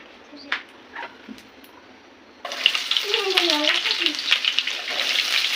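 Food frying in hot oil in a home kitchen, a loud steady sizzle that starts suddenly partway through after quieter clatter, with a voice speaking briefly over it.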